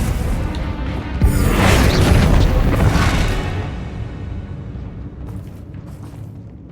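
A Bombarda spell explodes in Hogwarts Legacy with a loud, close blast. It rolls into a roaring, crashing burst for a couple of seconds, then fades into a lingering rumble with scattered debris.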